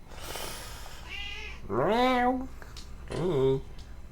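A pet cat meows close by, first a short faint call, then a long drawn-out meow and a shorter rising one, over a low steady hum.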